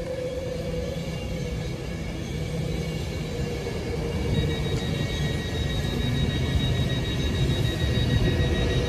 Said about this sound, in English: Arriving in now is the 1653 Avanti West Coast service to London Euston.